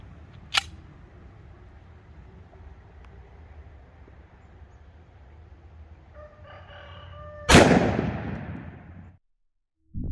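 Two loud, sharp reports from a Colt Delta Elite 10mm pistol at an outdoor range: a brief crack early on, then a heavier blast with a ringing decay, separated by quiet background.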